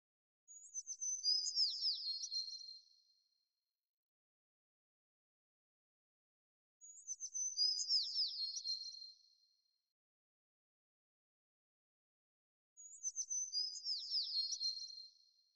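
Three separate bursts of high, rapid small-bird chirping, each about two seconds long, spaced by clean silence, panned toward the left in a surround mix to simulate the birds moving.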